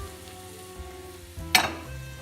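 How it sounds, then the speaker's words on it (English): Onion and zucchini hit hot oil in a pot with a sudden loud burst of sizzling. A quieter, steady sizzle follows close by, with faint utensil sounds. "you're going to add 2 cups of onion to the oil, 1½ cups of zucchini"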